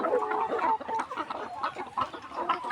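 Farm chickens cluck in a steady, busy chatter, several hens close by with overlapping short calls and a low background murmur.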